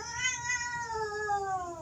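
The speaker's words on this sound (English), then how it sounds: "I got a 20-pound cat" A large, vocal 20-pound cat lets out one long, drawn-out meow that slowly falls in pitch. The call is clear and close, and nobody speaks over it.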